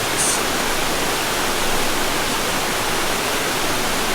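A gorge waterfall in the northern foothills of Japan's Southern Alps, above a wide granite riverbed, gives off a constant, loud, hissing roar heard close up and unbroken throughout.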